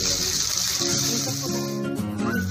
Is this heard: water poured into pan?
yes